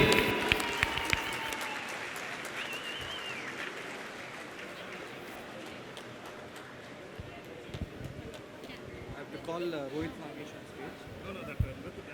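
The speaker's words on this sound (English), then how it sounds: "So you have to give a big round of applause for them" Audience at a Rotary district conference youth service event applauds impromptu youth performers, a continuous wash of clapping mixed with crowd chatter and voices throughout.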